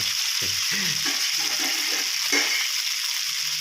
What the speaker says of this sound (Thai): จะผัดเป็น2กระทะนะครับ